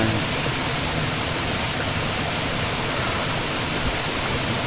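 Heavy water rushing down a waterfall, a steady dense roar filling the clip from start to finish with no breaks and no voices.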